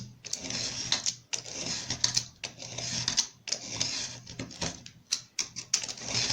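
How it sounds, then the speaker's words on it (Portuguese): A utility knife scores an electronic circuit board along a ruler in repeated passes, producing a series of sharp, scratchy strokes with short gaps, close and fairly loud. "vou colocar a régua bem na marquinha e vou passar aqui várias vezes o estilete"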